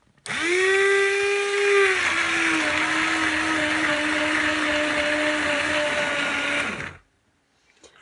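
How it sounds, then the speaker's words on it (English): A blender whirs loudly for about seven seconds, blending beef stew vegetables, its pitch dipping slightly early as the load settles, then cutting off abruptly into near silence. "I'm just going to blend it"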